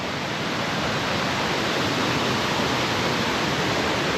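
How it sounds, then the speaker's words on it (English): A small river on an Indonesian island rushes in a continuous, loud, even wash of water close by, with no pauses and no voices. "This is a nice little river."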